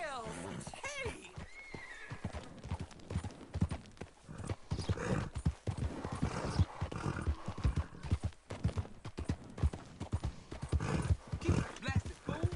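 Steady video game horse hooves clip-clop near and loud, with a horse whinnying early and someone shouting excitedly over the trotting throughout.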